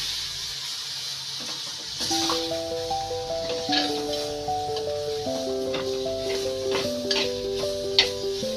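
Raw cashew nuts fry in a hot pan with a steady hiss and sizzle, and a utensil scrapes and clicks now and then as they are stirred. Light instrumental music plays underneath.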